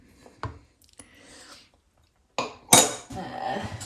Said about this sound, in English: Let's just scrape the zest out of that metal bowl.